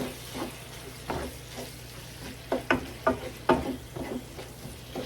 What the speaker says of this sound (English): And we'll just give this a little stir.